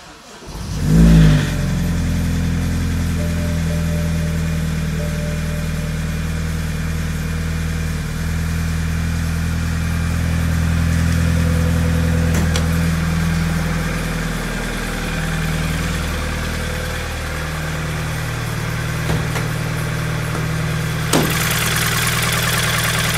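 A broken BMW Z4 engine cranks and catches, then runs at a steady, rough idle close by for over twenty seconds, swelling slightly in the middle as it revs a little.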